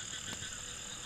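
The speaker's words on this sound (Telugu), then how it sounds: "ఈ కప్పల సౌండ్లు, పాముల సౌండ్లకి" Frogs croak steadily at night beside a campsite, a dense continuous chorus with one brief louder burst, no voices.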